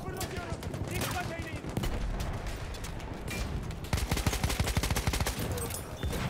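Single-fire gunshots in Battlefield 1 multiplayer crack in quick succession amid dense battlefield gunfire, growing sharper and more rapid toward the end, with a voice talking over them.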